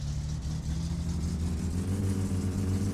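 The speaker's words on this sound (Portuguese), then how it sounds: "vamos dar uma puxada acelerando." A Satsuma car engine in the game My Summer Car, fitted with a new turbo and running with an out-of-tune distributor, revs up from a low idle and holds a steady, loud rising rumble with no talk.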